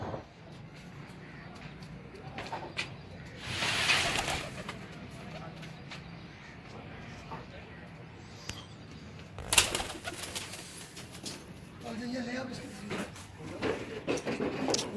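Pigeons coo on a rooftop loft in Multan, a soft steady murmur under continuous background noise, with a few brief louder rustles or bumps and a faint voice in the distance.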